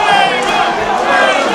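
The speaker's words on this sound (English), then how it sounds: "They are chanting table." Wrestling crowd at a hardcore match chanting "table" in unison as a table is brought out, a dense, loud roar of many voices with steady rhythmic shouting filling the space.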